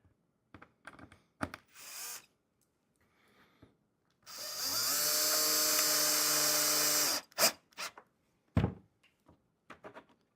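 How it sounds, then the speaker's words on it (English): A power drill drives latch screws into a beeswax-coated cedar wood bee hive, one sustained whirring burst lasting about three seconds between scattered clicks and handling knocks, close and clear. "So we're going to drill each latch in."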